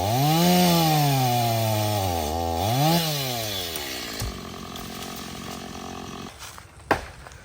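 A chainsaw cutting a tree, its loud engine whining and bogging as the revs rise and fall through the cut, then dropping to a lower idle with a sharp knock near the end.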